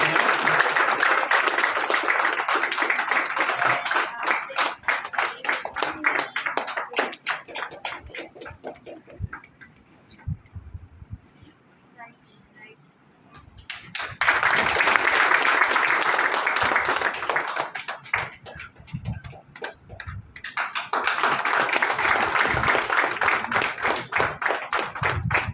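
Traders at an event honouring a police ACP burst into rhythmic clapping, loud sustained bursts that drop to near silence midway and then swell again in two further waves.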